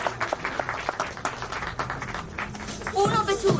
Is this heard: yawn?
no